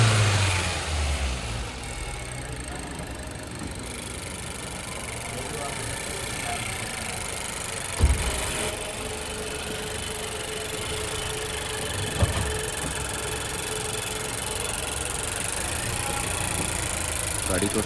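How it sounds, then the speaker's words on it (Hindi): A car engine idles with a faulty turbo that no longer works, a steady mid-pitched drone running throughout with a couple of brief knocks and a louder onset at the start. "अभी इंजन को स्टार्ट करके इंजन का साउंड मैं आपको सुना देता हूं। इंजन का साउंड भी टोटल चेंज हो चुका है, क्योंकि टर्बो जो है वो बिल्कुल भी काम नहीं कर रहा।"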